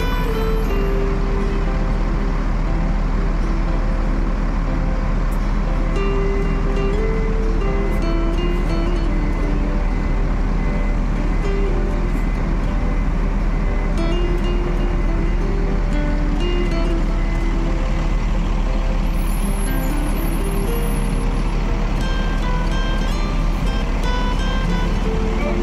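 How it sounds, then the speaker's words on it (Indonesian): Buses arriving at Poris Pelawat bus terminal, a steady loud drone of engines and traffic rumble throughout with a low continuous hum, people talking over it. "Bus Minang sudah pada berdatangan ya di Terminal Poris Pelawat"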